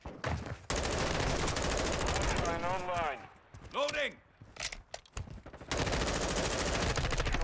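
Gunfire from the Modern Warfare 2 beta video game, dense rapid bursts filling the start and end of the clip, with a player talking over it in the middle stretch.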